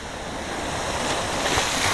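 Ocean waves rolling in at golden hour, a broad steady surf roar that builds slightly as the wave arrives, with some wind buffeting on the microphone.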